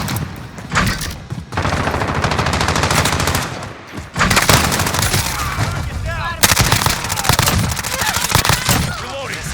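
Shotgun fire in a video game, fast and loud, with dense overlapping blasts and booms that go on almost without a break and stop briefly twice.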